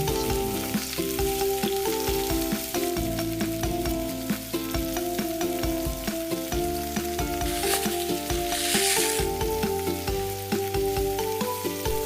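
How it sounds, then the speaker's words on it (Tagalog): Onions sautéing in a little cooking oil in a pan, a dense continuous sizzle and crackle close by, steady and loud throughout with occasional brighter spitting bursts. "Maglagay tayo ng kaunting amount ng mantika. Atin na igisa ang sibuyas."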